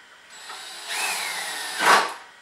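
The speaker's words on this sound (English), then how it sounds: "Tighten these two screws back up." A power driver tightening two screws on a generator transfer switch, a short close whirring burst that rises in pitch and ends with a brief louder spin.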